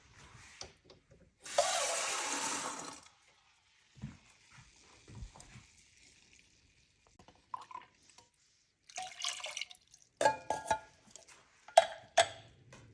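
Water splashes briefly into a pot, followed by scattered drips, clinks and small handling noises in a quiet room.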